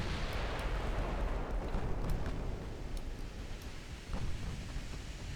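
Heavy naval battle rumble in Ultimate Admiral's 1920 campaign, with torpedo hits on a ship: dense, continuous low booming and roaring explosions with scattered sharp impacts over about five seconds, and no voices.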